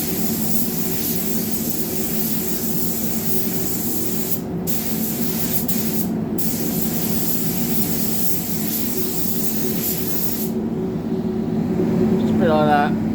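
A spray gun applying paint to a new bumper on a Mazda CX5, a steady loud hiss broken by two brief pauses and then cut off near the end, with faint background noise after.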